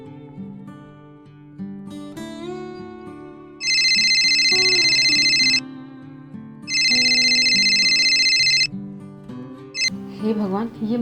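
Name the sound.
phone ringtone ringing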